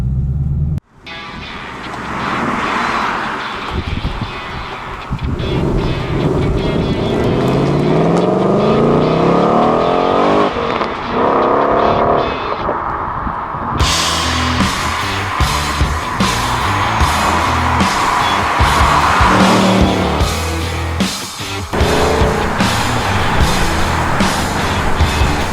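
A Ford Mustang Bullitt V8 pulls away in first gear on a circuit, its engine roaring loud and close, revving hard and climbing in pitch with a brief shift in tone midway.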